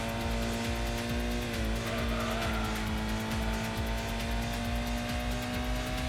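A Nissan Skyline on cold, normal tyres slides through corners in the PS1 game Gran Turismo, its steady engine drone carrying continuous tyre squeal and skid noise throughout, with no talk over it.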